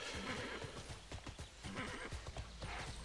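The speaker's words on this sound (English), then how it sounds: "It's because I'm on the horse," A horse in TERA Online neighs and trots, rhythmic clip-clop hooves running steadily with whinnies on top, faint and fairly close.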